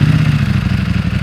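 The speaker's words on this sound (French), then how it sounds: "On va démarrer ici le V4 histoire de vous régaler un petit peu" A Ducati Panigale V4S motorcycle's V4 engine idles close by, a dense, steady lumpy throb with a clattery mechanical edge, lasting only a moment.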